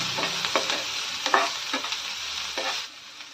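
Thinly sliced onion, one large, frying in a pan for a tomato and fenugreek-leaf curry, with brief stirring scrapes over a soft sizzle for a few seconds, close and alone.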